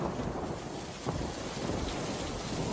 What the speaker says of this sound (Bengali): বৃষ্টি তো চলেই এলো